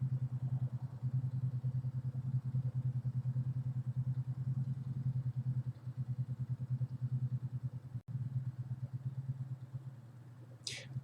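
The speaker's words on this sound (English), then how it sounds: "there's just someone that just wanting to like run their motorcycle all night long outside" A motorcycle engine idles outside at night, a steady low throbbing drone that runs on evenly at moderate distance with a brief break near the end.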